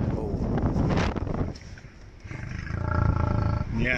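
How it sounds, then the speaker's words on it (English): A lion roars close to a safari jeep, giving deep, loud, rumbling bursts that repeat across the few seconds, with a brief lull in the middle and wind noise on the microphone. "This lion didn't like how close his safari jeep was."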